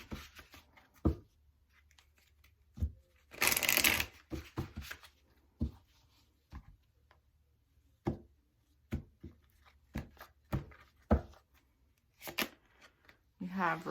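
An oracle card deck is shuffled and handled in short, dry papery bursts of riffling and tapping, with one longer shuffle, scattered quick card flicks and soft pauses between them; no one speaks.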